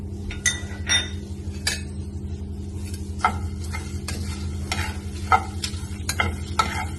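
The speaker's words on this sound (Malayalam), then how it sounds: "പെരുംജീരകം, പിന്നെ മല്ലി. ഇതൊന്ന് വറുത്തെടുക്കാം." Fennel and coriander seeds dry roasting in a pan for a masala beef curry, irregular light rattling and ticking as the seeds are stirred and scraped, over a low steady hum.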